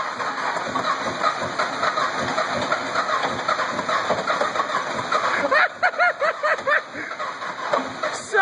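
Engine that has thrown a rod, cranking and trying to start on ether: a steady close mechanical chug and hiss throughout, turning more irregular and sputtering near the end.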